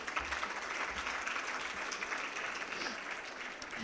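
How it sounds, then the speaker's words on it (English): A conference audience claps steadily and fairly loudly after a CEO panel discussion, a dense even round of applause that carries on without pause. "Let's give them a big round of applause once again"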